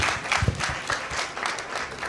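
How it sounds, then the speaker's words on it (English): Applause from the audience at a foundation alumni formalization ceremony, a short steady burst of clapping that holds at an even level throughout. "A round of applause for us."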